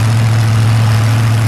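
A 581 cubic inch Hemi racing engine idles in a front-engine rail dirt drag car, giving a loud, steady, deep rumble with no talk.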